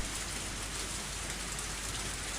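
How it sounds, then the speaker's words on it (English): Heavy rain in the video game Higurashi, a dense, steady hiss of downpour that stays level and unbroken throughout with no voices. "The rain's heavy today, too."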